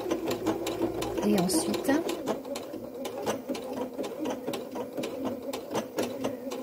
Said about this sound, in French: Il faut laisser la machine faire le point.